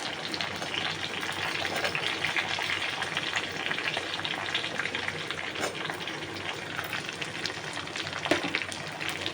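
Garlic and ginger sizzle in hot oil in a kadai as the base for chilli chicken, with onions about to go in. A steady, close frying hiss runs throughout with no talking.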